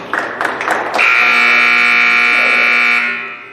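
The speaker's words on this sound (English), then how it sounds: "There's the buzzer." A loud, sustained electronic basketball game buzzer blares steadily for about two seconds after some brief crowd and court noise at a boys' JV game, then cuts off.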